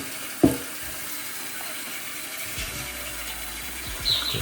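Water is poured from a tap into a pan of lupin biryani in a home kitchen, a steady faint running hiss after a brief clatter, with a soft knock near the end.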